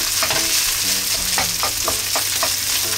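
Rice stirred into sizzling garlic in a hot frying pan on high heat, a steady loud sizzle with repeated scraping stir strokes, no talk.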